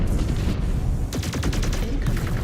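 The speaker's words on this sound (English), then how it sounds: "Oh shit, missiles!" Missile salvo in the mech combat game MechWarrior 5: Clans, a rapid burst of launches and impacts crackling over a constant dense rumble, loud and close.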